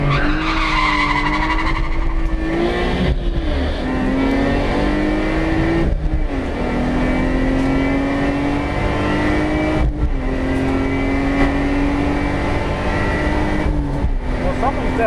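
A Lexus IS200 accelerating hard on a race track, its engine note climbing loud and close through repeated gear changes, with brief dips between pulls and tire noise beneath.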